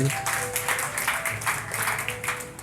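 Church congregation clapping during a sermon, a dense and fairly even patter of many hands at moderate distance, with a held keyboard tone underneath.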